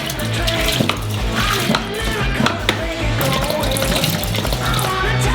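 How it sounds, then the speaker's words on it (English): Large quantity of milk poured from cartons into a huge saucepan for giant ice cream, a steady continuous liquid gush and splashing with low rumble, loud and close, filling the whole stretch without talk. "Open them up. And pour them into a large saucepan."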